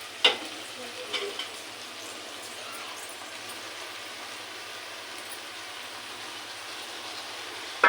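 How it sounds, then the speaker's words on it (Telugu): Chopped ridge gourd fries in a pan with tomatoes, giving a steady close sizzle and faint stirring clatter, a few louder scrapes near the start, no talk. "ఇప్పుడు మనం బీరకాయలు వేసుకుందాము."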